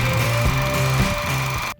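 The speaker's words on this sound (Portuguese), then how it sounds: "Vamos costurar ali para poder fechar ela." Sewing machine stitching a folded fabric strip for a dog pajama: a close, steady motor whir with rhythmic needle pulses that stops abruptly near the end.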